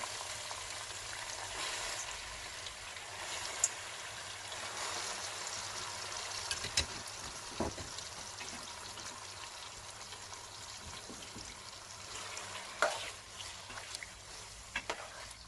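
Chicken frying in oil with ginger garlic paste for a black pepper chicken karahi, a steady close hiss and sizzle with occasional louder pops and crackles, no voices.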